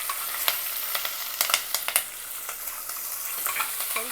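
Chopped onions and green chillies frying with cumin seeds in a pot, a continuous sizzle with scattered crackles and occasional scrapes of a spoon stirring, no voices over it.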